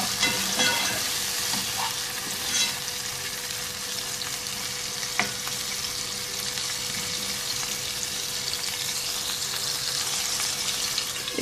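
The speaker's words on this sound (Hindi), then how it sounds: "चम्मच चलाएंगे इसमें।" Finely chopped tomatoes frying in a karahi, a steady close sizzle running throughout with occasional spoon scrapes and taps, no talking.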